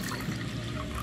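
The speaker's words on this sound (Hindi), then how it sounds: "धोने के बाद मैं पानी को ऐड करना है" Water pours steadily into a bowl of washed chana dal being prepared in a home kitchen, a continuous close splashing rush with no voices.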